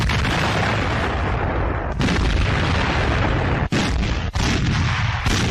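305mm coastal guns shell a fort during the siege of Sevastopol, a dense, continuous roar of booming artillery fire and blasts with brief sharp gaps, loud and without voices.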